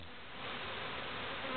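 Honey bees buzz steadily inside an opened beehive from a pine swarm, a dense continuous hum that stays close and even throughout with no voices.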